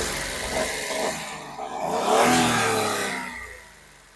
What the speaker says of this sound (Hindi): अब मैं इसका आपको इंजन नॉइज भी सुनाई देता हूँ कि क्या कुछ इंजन नॉइज प्रोड्यूस करती है हमारी ऑल्टो K10 का इंजन